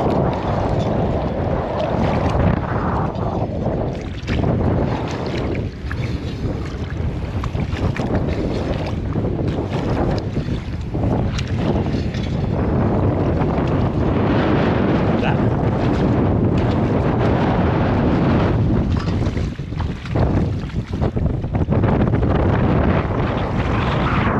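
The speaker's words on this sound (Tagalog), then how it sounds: "Lakas ng hangin" Strong wind gusts buffet the microphone at Thompson Beach, a loud, continuous roaring rumble with surging swells and no voices.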